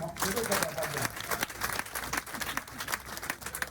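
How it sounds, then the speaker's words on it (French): Scattered applause from an audience at a rural women's day gathering, uneven individual claps over a crowd with talking voices mixed in. "Applaudissez un peu."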